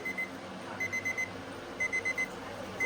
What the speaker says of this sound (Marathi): हा बघा, अलार्म वाजतोय बघा असा.